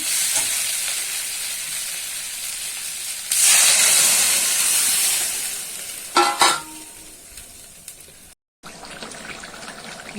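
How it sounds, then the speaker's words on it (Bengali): Masala fries in oil with a steady close sizzle that swells into a loud hissing burst, then eases back, with a few brief stirring knocks and no talk. "মশলা থেকে তেল ছাড়ছে"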